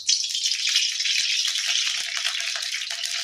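Oil heating in a hot kadhai for a whole masoor lentil curry gives a loud, continuous bright sizzle and crackle, close and steady for a few seconds with no talking.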